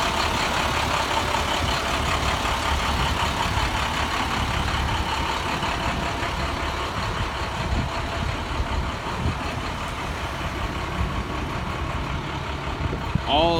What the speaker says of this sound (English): Here we have the 2013 International 4300 DuraStar